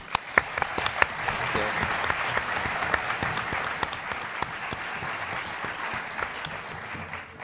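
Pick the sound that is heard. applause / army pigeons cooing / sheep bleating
applause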